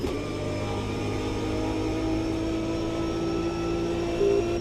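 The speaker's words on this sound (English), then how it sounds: "Got really good tyre sound in this game actually." Racing car lapping Monza in Automobilista 2, a steady engine drone with tyre noise running throughout, a sustained whine rising slightly near the end, close and constant with no talking.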